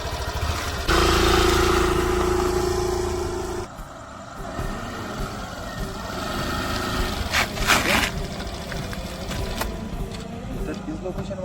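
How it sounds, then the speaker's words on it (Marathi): A started vehicle engine runs loudly at first, then settles into a lower steady idle after a few seconds, with people talking over it and a few sharp bumps and clatters. "गाडी तर ऑन झाली."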